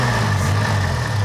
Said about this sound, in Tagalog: pinaringgan ko na lang yung tinig ng makina